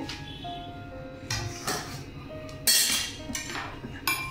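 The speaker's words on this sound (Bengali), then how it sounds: "দু মিনিট হয়ে গেছে, এবার ঢাকাটা খুলছি" Metal lid lifted off a cooking pot of boal fish curry with flat beans, potato, eggplant and bori, giving a few separate clinks and clanks of metal, one sharper bright clatter near the middle, over a quiet kitchen background.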